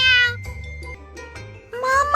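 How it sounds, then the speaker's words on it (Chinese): A kitten meows several times in quick succession, close and clear, with short gaps between the cries and no talking. "小猫急通人性的喵呜了一声"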